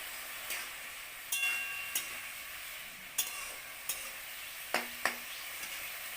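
Cashews and raisins are stirred in a frying pan with a soft steady sizzle, broken by several sharp, irregular spatula clicks and scrapes.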